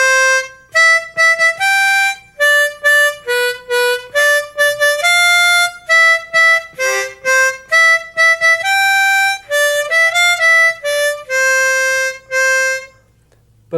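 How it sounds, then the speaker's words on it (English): Harmonica plays the tune Skip to My Lou as clean single notes, bright and close, in a steady rhythmic melody of separate detached tones with short gaps between phrases, no voices present. "So you can play songs like, for instance, Skip to My Lou."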